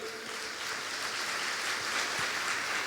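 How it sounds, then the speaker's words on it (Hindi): Congregation in a church clapping together, a steady, dense wash of applause that holds evenly throughout with no talking over it. "ताली बजाई।"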